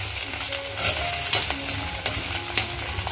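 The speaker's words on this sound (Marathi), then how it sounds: "तर कांदे बघते मस्त फ्राय झाले." Onions and tomato fry in oil in a pan over a wood-fired stove, with a steady close sizzle broken by several sharp scrapes and clatters from stirring.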